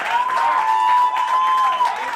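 An audience applauds comedian Nathyn Gibson at a live comedy show, a steady wash of clapping with a sustained high tone running over it.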